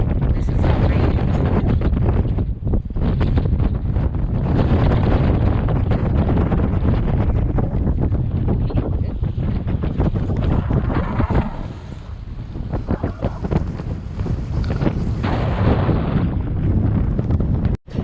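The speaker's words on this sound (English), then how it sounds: "Boy, it is windy today, guys." Strong wind buffets the microphone on a dock in Garibaldi, Oregon, during Dungeness crab fishing, a loud continuous roar with gusty rumble that barely lets up for the whole stretch.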